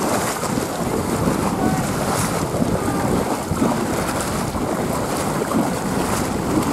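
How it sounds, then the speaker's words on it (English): Ocean surf surges and washes around a horse being ridden through the waves, a loud churning rush of water mixed with gusty wind buffeting the microphone. "See how the waves come up high and then drop down low?"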